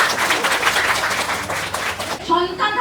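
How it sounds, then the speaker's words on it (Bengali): An audience applauds with dense, steady clapping that fills the space, and voices are mixed in around it. "আরেকবার জোরদার হাততালি দিয়ে দিন"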